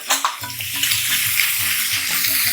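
Radish sautéing in coconut oil gives a loud, close, continuous sizzle with light scraping and stirring, and no one speaks.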